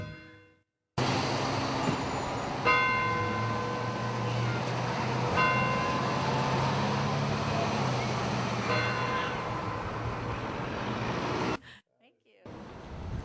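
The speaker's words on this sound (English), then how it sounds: "And it's a huge bell. Would you like to ring it?" A huge church steeple bell rings out in a small lakeside town, giving three loud, resonant strikes whose tones linger and overlap, with faint outdoor background noise around them.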